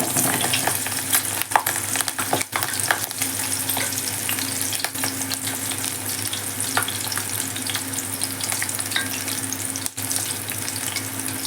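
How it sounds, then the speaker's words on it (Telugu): Green chillies frying in hot oil, giving a dense, continuous sizzle with small crackles and occasional stirring. "పచ్చిమిర్చి కాస్త అలా నూనెలో వేసేసి వేయించేస్తుంది."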